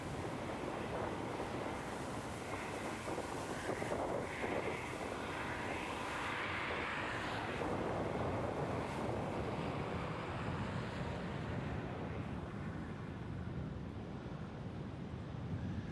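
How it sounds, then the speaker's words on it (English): A strong headwind roars across the microphone while riding a bicycle on a long-distance tour, a continuous, buffeting rush of noise that swells and eases slightly over the whole stretch, with no talking. "This headwind is just slowly beating me down. It's such slow progress into this wind."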